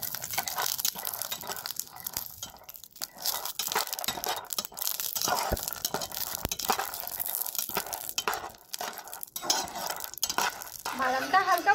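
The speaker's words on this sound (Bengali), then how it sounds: "এবার আমি এগুলোকে ভালো করে ভেজে নেব" Peanuts and green chillies sizzle in hot oil in a pan while a spatula stirs and scrapes them in irregular, crunchy strokes. The frying stays soft and close throughout.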